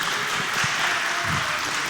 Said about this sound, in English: you better applaud him